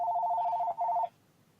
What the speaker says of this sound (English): I'm getting a phone call here.